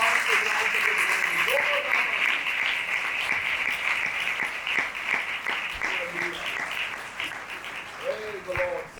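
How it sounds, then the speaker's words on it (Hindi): Sustained applause from a church congregation at a Sunday service claps on steadily throughout, with a voice speaking Hindi over it at moments. "शुक्रगुजारी की तालियां।"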